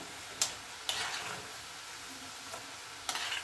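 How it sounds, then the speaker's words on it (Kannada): Minced mutton kheema balls frying in oil: a soft, steady sizzle broken by a few sharp scraping stirs or spatters spaced across the moment, close and fairly quiet. "ಅದನ್ನು ಈಗ ಎಣ್ಣೆಯಲ್ಲಿ ಫ್ರೈ ಮಾಡ್ತಾ ಇದ್ದೀನಿ"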